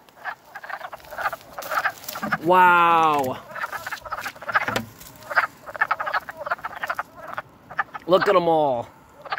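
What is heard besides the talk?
frogs croaking in a highway drainage area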